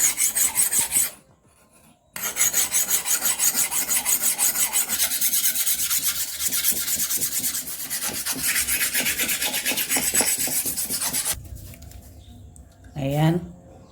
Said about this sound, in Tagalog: make sure muna natin na matalas ang ating itak. So, hasain muna natin ito.